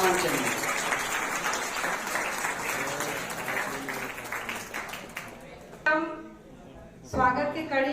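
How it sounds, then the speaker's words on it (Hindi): Dense applause from a crowded hall at an award ceremony honoring Kavita Sharma, steady and loud for several seconds before tapering off as someone speaks. "एक बार जोरदार ताली हो जाए कविता शर्मा मैम के लिए।"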